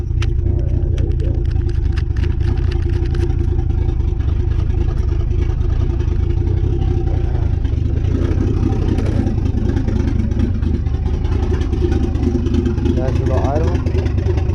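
An engine running at a steady idle after starting, giving a loud, continuous low rumble with a faint clatter, and a voice briefly speaking over it.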